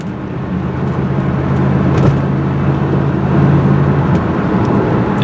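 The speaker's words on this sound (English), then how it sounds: "See, I'm flooring it right now, and it's just not giving me the acceleration and response I want" A 1988 Mercedes-Benz 560 SL roadster with an air intake fault is floored, giving a steady low engine drone and road rumble from inside the car that hardly builds in pitch.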